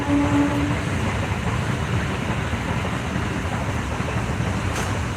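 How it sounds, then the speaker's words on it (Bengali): A train rumbles past through steady rain, a continuous broadband wash of rolling noise with rain hiss that stays loud and even throughout, no voices. "দেখো বৃষ্টির মাঝে এদিক থেকে ট্রেনটা যাচ্ছে"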